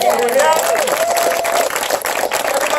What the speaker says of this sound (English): continue to clap and give it up for you